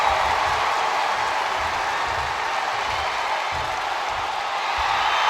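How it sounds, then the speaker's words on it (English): A capacity arena crowd in the WWE 2K25 wrestling game roars and cheers in a loud, unbroken wash of noise, with soft low thumps pulsing underneath. "This capacity crowd is sending him love, and he's sending it right back."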